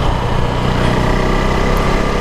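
A KTM RC390 motorcycle engine drones steadily while riding along a road, a loud continuous buzzing hum with wind rush and no talk.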